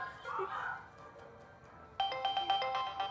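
A telephone ringtone chirps in a quick repeating electronic pattern, starting abruptly partway through after a stretch of quiet room tone with faint voices, fairly soft and close.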